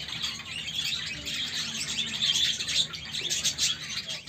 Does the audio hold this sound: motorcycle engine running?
no